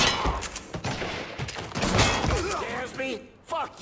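Gunfire in the Mafia 3 video game: a quick fusillade of sharp shots and thuds in irregular bursts, mixed with shouting voices and other game sounds.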